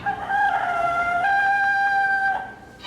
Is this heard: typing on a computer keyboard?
no